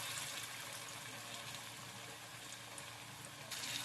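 Coriander leaf fritters frying in oil, a soft, steady hissing sizzle with faint crackles, quiet and continuous without voices.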